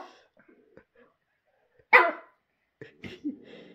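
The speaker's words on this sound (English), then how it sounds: "She's growling now." A dog growls and gives short vocal bursts during a standoff with another dog: a sharp loud outburst, then brief rough rumbling sounds close by, with quiet gaps between.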